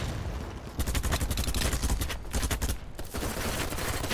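Sustained bursts of M249 machine gun fire in the shooter game Battlebit, loud and close, rattling rapid-fire for several seconds with only brief gaps between bursts.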